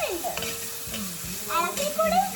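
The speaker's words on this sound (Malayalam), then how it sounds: "സവാള ഇട്ടിട്ട് കുറച്ചും കൂടി അങ്ങോട്ട് ഇളക്കാം." Onions sizzle and fry in a pan while being stirred for a Kerala-style breadfruit roast, with scraping stirs over a crackling hiss and a faint voice now and then.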